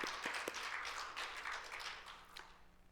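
Congregation clapping during a Korean church sermon, soft scattered claps heard faintly and somewhat distant in a reverberant hall, thinning out toward the end.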